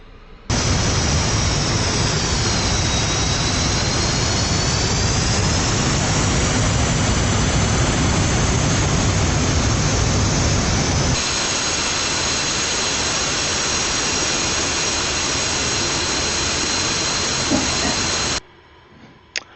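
A fighter jet engine in the DCS flight simulator game spools up for takeoff, a loud, steady roar with strong hiss and a rising whine. The tone shifts partway through, then the roar cuts off abruptly near the end.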